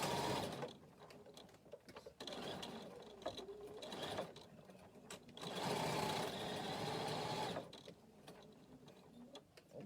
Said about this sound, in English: Oops, my bobbin's playing up, just a second.